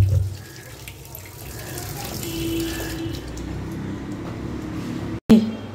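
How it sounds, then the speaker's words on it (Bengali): Kitchen tap water runs steadily into a sink while raw chicken is washed, a continuous close splashing hiss that cuts off abruptly near the end and then resumes. "চিকেনটা ধুয়ে নিই"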